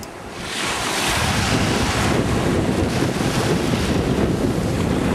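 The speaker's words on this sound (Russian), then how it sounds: "Смотри, волна приходит," Ocean surf washes ashore on a Florida beach. A loud, continuous roar of breaking waves mixes with heavy wind buffeting the microphone and builds up within the first second.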